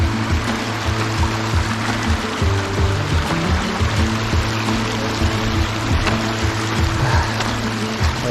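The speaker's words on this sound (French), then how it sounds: "il y a une cascade là-bas." A waterfall in the Dolomites pours steadily, a continuous rushing hiss of water heard at moderate distance, with a low droning hum running beneath it and no talking.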